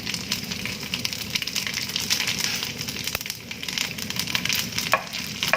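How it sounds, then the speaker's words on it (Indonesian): Salted jengki fish, gutted, fries in hot oil with a dense, continuous sizzle and crackle, close and steady, dotted with sharp pops and no voices. "Setelah minyaknya panas, saya goreng dulu ikan asin."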